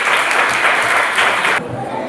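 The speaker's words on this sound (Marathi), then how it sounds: "या सर्व विद्यार्थ्यांसाठी एकदा जोरदार टाळ्या वाजवा" Close, loud clapping from a school audience for tenth-standard students at a students' teachers' day event, continuous for about a second and a half before cutting down to faint room noise.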